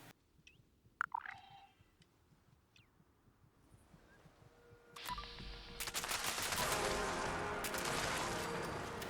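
Rapid gunfire from a gun in Fallout 76 firing at a Behemoth, a few sharp shots and game clicks early on, then a dense, loud stream of shots filling the second half.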